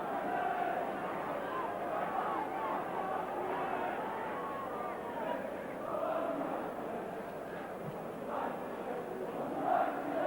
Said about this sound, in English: Walk being roared on by the crowd